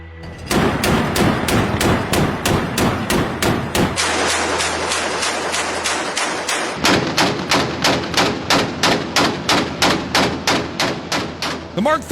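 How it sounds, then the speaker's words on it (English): A Mark 38 25mm naval machine gun fires in rapid, evenly spaced heavy bursts, loud and close, with a stretch of sustained roar mid-way before the rhythmic booming shots resume. "This is America's Mark 38 25mm machine gun system."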